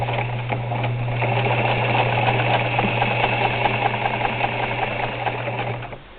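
Electric sewing machine running steadily at close range, a continuous loud mechanical whir with a strong low hum and rapid needle clatter throughout, easing off at the very end.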